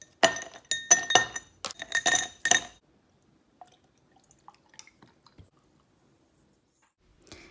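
Ice cubes drop into a drinking glass for a whipped Dalgona coffee, a quick run of bright clinks and clatters close by, then a few faint settling ticks and drips in near silence.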